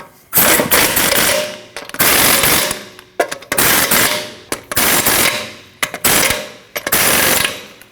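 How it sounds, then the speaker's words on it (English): Lug nuts on a 2012-2021 Nissan NV2500 wheel are driven tight in five loud, rattling, hammering bursts of roughly one second each, separated by short pauses, with no talking. "Now tighten down all your lug nuts."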